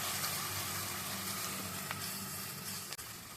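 Crushed shallots, garlic, ginger and green chili sizzle steadily in hot oil in a pan for a mullet fish curry, a continuous close frying hiss with one brief clink near the end.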